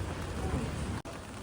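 Steady rain falls on a café street in Zhongshan, Taipei, a dense continuous hiss with a brief dropout near the end and no talking.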